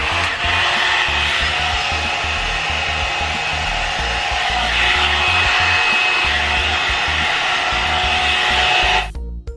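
A one-step hair dryer and volumizer brush blows steadily at close range, a loud, even whooshing roar with a motor whine that cuts off abruptly near the end.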